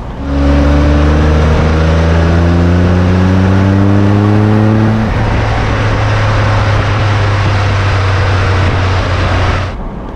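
A 1993 Jaguar XJ220 sports car accelerates hard while driving. The loud engine note climbs steadily in pitch through repeated rising sweeps, then settles into a steady roar for the rest of the run.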